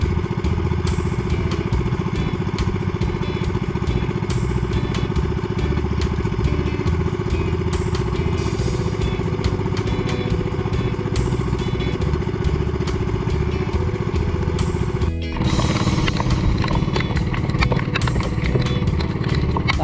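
Boat engine running steadily while travelling to another spearfishing spot, a loud continuous motor drone with rapid rhythmic chugging and a brief dip near the end, no talking.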